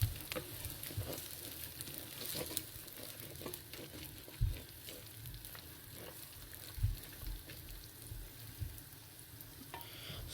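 Garlic fries in a pan with a soft, continuous sizzle while a utensil stirs and scrapes, giving occasional louder clacks against the pan.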